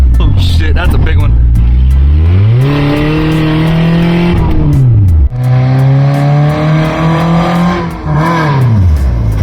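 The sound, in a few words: LS engine revving in lifted CR-V on trail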